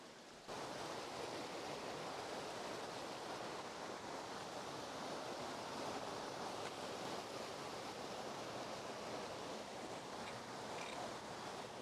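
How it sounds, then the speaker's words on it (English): River water rushing steadily over a set of cascades on a springtime forest trail, a constant broadband roar close by with no pauses and no voices. "here's the first set of cascades"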